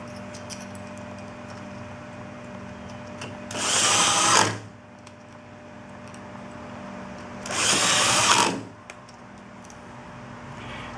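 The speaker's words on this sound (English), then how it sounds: "You can also see why 2 drills would come in handier if you happen to have them available." A power drill drives screws into a PVC cemetery fence in two loud whirring bursts, each about a second long, separated by quiet stretches with a low steady hum.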